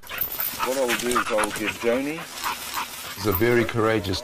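A pit bull makes a series of yelping, whining dog vocalizations in short bursts, heard under someone narrating in French.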